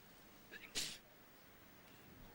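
A single quick sneeze bursts out over quiet background, faint and somewhat distant, on a golf course during a tournament's final round.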